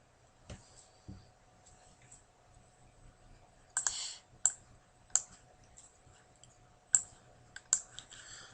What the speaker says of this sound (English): Then click on OK.